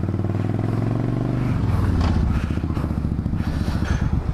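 Motorcycle fresh from the shop, heard up close with a loud, steady engine rumble that shifts into a faster, pulsing throb as it pulls away. Clattering road noise runs underneath.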